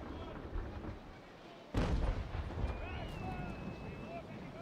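Ship cannons firing a broadside in the Naval Action sailing game: one sudden loud booming blast amid wind and sea noise, followed by lingering rumble and whistling tones.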